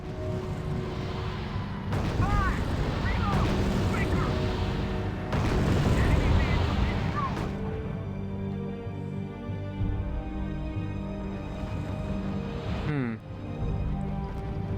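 Artillery fire in the strategy game R.U.S.E.: heavy booms and rumbling blasts at the start, then a low sustained drone under game music and effects, with voices talking over parts of it.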